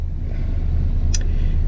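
A car engine idles with a steady low rumble, close and fairly loud, while the throttle is eased off, with a short faint click partway through.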